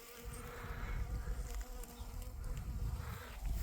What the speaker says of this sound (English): The bees there loving the sourshops.